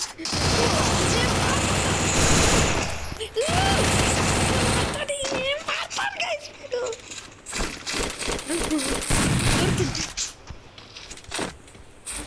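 Rapid bursts of video game gunfire, including shotgun blasts and automatic weapon fire, during a one-on-one match; loud and dense at first, then breaking into shorter volleys with scattered shots and game effects toward the end.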